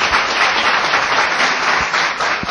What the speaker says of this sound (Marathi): सरांसाठी एकदा जोरदार टाळ्या वाजवा.